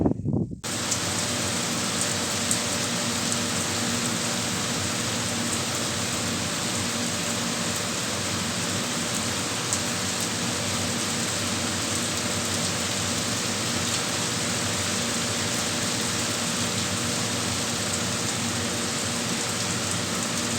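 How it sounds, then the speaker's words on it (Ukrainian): Steady summer rain during harvest season falls continuously on a farm, a dense even hiss of drops on surfaces lasting throughout, with no voices. "А зараз, коли жнива розпочалися, розпочалися і дощики"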